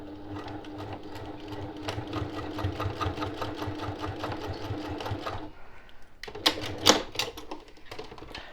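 A sewing machine runs a steady, rapid stitch along a zipper pouch seam for about five seconds, then stops. Softer fabric handling and a few quick clicks follow, close and with no talk.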